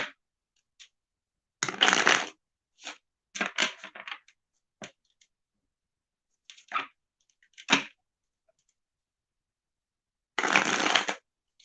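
Oracle cards being shuffled by hand: several separate bursts of riffling and flicking, with two longer riffles and scattered single snaps between quiet gaps, close and clear with no talk.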